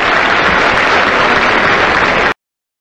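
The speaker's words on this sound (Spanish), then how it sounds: "Un aplauso para él, por favor." Audience applause for the president at a Peruvian press event, a dense, steady wash of clapping that holds at full loudness for about two seconds and then cuts off abruptly into silence.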